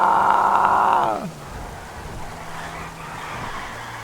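A car in the GTA Online video game skids on a rain-soaked road, a loud sustained tire squeal with a falling pitch that cuts off after about a second, followed by quieter engine rumble and ambient game noise.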